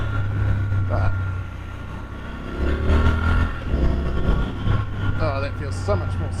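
A 2023 Triumph Scrambler 1200 XC motorcycle engine droning and pulling on the road, a steady low rumble that swells as it accelerates, heard from the rider's position under wind noise and someone talking.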